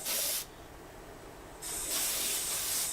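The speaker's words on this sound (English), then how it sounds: "Just spraying it now." Two bursts of hissing aerosol spray on a handmade Art Deco jewelry box, close by, separated by a short pause with a quieter hiss between them.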